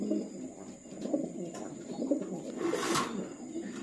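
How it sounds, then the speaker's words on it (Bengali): Golla pigeons coo softly nearby in low, throaty rolling calls that overlap in a steady murmur, with no voices. "এখানে আছে গোল্লা কবুতর, এই যে দেখেন খুব সুন্দর কবুতর"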